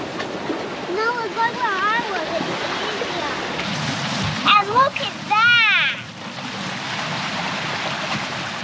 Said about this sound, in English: Little cave. Yeah, little cave with waterfall.